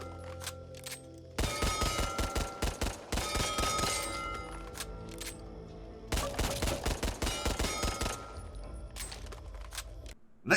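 Beretta M9 pistol fired in the video game Back 4 Blood, two long bursts of rapid, evenly spaced loud shots with metallic clinks and a quiet pause between them, no voices.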